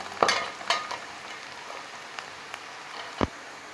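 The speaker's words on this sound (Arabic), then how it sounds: "هنحمر بس البصلايه شويه كده" A sliced onion fries briefly in a pan, with a low, faint sizzle beneath a few sharp stirring clicks and scrapes spread across the clip.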